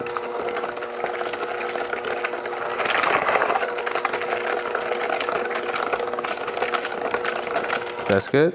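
Pineapple bun dough ingredients are mixed, giving a steady whirring, churning mechanical drone that continues throughout and rises briefly in the middle. A voice speaks a few words near the start.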